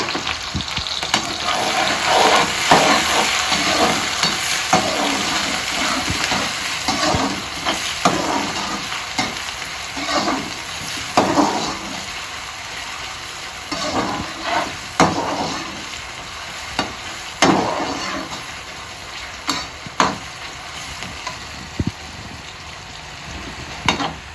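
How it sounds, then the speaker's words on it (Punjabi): Onion and garlic sizzle and crackle in hot oil while being stirred. Spoon scrapes and clinks land irregularly through the steady frying hiss, which is close and moderately loud. The hiss eases off toward the end. "ਤੇਲ ਆਪਣਾ ਗਰਮ ਹੋ ਗਿਆ ਹੈ ਪਿਆਜ਼ ਤੇ ਲਸਣ ਪਾਵਾਂਗੇ"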